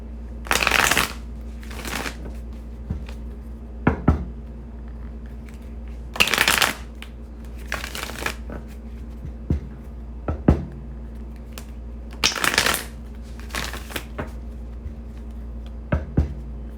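A deck of tarot cards is shuffled in several quick riffling bursts, close and crisp, separated by pauses with soft handling noises and a steady low hum underneath.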